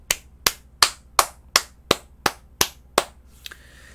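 Nine sharp, evenly spaced claps ring out one after another at a steady rhythm, close and loud in a quiet room, followed by a faint final tap.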